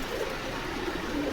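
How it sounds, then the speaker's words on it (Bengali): Giribaz pigeons cooing softly in a loft, a low, continuous murmur of overlapping coos at moderate distance over a faint background hum. "এটাও পিলং কবুতর, গিরিবাজ কবুতর।"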